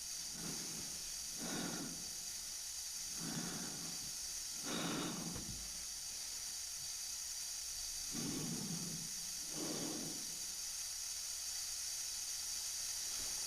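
Slow rhythmic astronaut breathing inside a spacesuit in 2001: A Space Odyssey, six hissing breaths spaced a second or two apart over a steady high electronic hum, with no talking.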